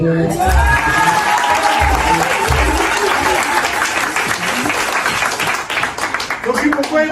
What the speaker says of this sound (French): C'est pasteur Denis, un peu d'applaudissements.